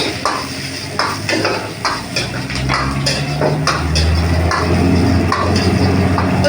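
Hong Kong chicken fried rice stirred and fried in a pan at a Kolkata food stall, with loud, close metal spatula scrapes and clanks over a steady sizzle and a low background hum.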